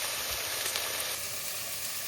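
Ground beef dropped into a hot pan and left unstirred, giving a loud, steady crackling sizzle of frying meat close by.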